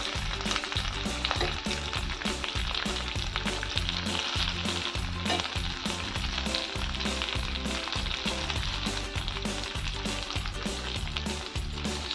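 Poha cutlets shallow-fry in oil in a pan, giving a loud, steady, close sizzle and crackle that continues without a break, with no voices.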